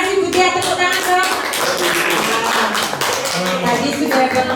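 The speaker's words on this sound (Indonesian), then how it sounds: "Terima kasih Bu Tia, tepuk tangan dong." Hand clapping from an audience at a 2024 CPG dissemination session, steady and dense throughout with voices talking and calling out over it.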